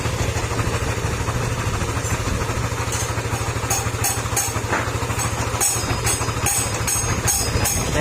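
A Yamaha NMAX 155 scooter engine runs steadily at idle nearby, a loud continuous hum with a faint rattling mechanical noise on top and light clicks toward the end.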